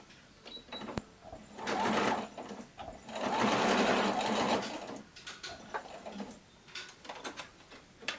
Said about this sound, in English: I will just sew it to secure it, so the ring doesn't fly around.